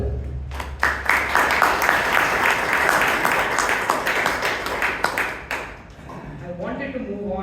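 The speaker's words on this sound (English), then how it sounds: "A loud round of applause for Toastmaster Jewel." A club audience at a Toastmasters meeting in Bangalore breaks into a loud, dense round of clapping that swells and then fades, with a voice speaking near the end.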